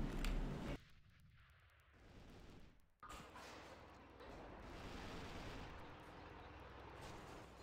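A tank blows up in the shooter game AVA during a 2013 tournament final, a loud blast opening the clip and then a sudden sharp crack at three seconds, followed by a dense, sustained roar of battle noise.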